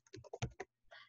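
Child typing answers on a computer keyboard: a quick run of soft, close key clicks followed by a short pause and one more faint press, no talk.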